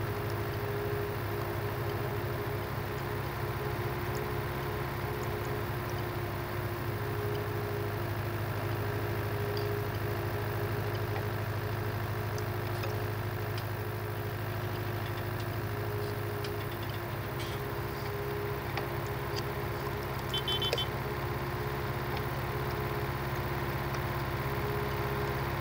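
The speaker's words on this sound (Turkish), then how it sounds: "Traktörün sesi değişti ya." A tractor engine idles steadily in the video game Farming Simulator 2019, a continuous low mechanical hum and drone, loud and unbroken throughout with no talking.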